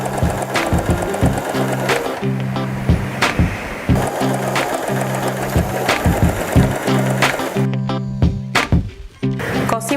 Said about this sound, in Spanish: Bajo el prensatelas y continúo hasta el final cosiendo